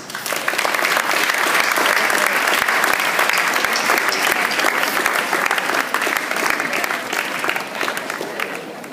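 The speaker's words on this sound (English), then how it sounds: "let us give them a very warm applause" Graduates at a graduation ceremony applauding their parents, a steady, dense roomful of clapping sustained for several seconds and easing slightly at the end.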